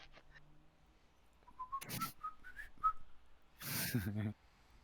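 A person whistles a short melody in a series of clear rising notes between breathy bursts; the sound is close and moderately loud, alone without talk.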